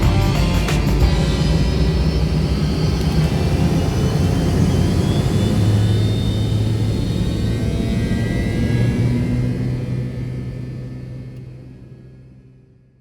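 Close, steady roar of an American Airlines MD-80 jet engine heard from a seat right beside it, a loud broadband rush with a low tonal hum and a rising whine that fades off toward the end.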